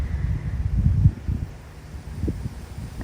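Low rumbling wind buffeting the microphone outdoors, gusting louder early on and then easing into a steady background rush.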